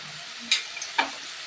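Ridge gourd curry with poppy seed paste, sugar and mustard oil is stirred in a pan: three brief spatula scrapes over a faint, steady sizzle.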